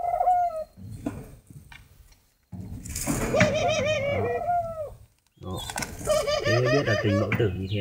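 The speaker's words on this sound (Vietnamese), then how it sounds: "đây là lúc con chim mẹ bón cho con chim non" A spotted dove mother feeds her chick with bursts of squeaky, warbling bird calls close by, broken by short pauses, while someone talks over parts of it.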